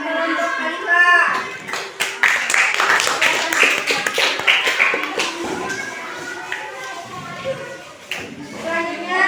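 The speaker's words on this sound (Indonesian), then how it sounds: "beri tepuk tangan untuk Khalifah" Students in a primary school classroom clap together for a classmate, a burst of many hands that rises and stays fairly loud with children's chatter and talk mixed throughout.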